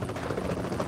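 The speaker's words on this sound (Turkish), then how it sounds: "Ah helikopter." A helicopter flying in the mobile battle royale game PUBG Mobile, a brief, loud, continuous rotor thrum with a dense low chopping rumble.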